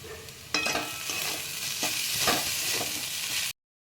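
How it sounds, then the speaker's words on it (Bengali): Poha being stirred in a pan with lemon juice and coriander leaves: a steady scraping, sizzling stir with several distinct louder sweeps of the spatula, close and alone, ending abruptly in silence. "নাড়াচাড়া করে নেব"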